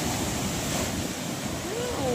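Large ocean surf crashes and washes continuously onto a shore near flooded houses, a broad loud roar with steady wind buffeting the microphone throughout.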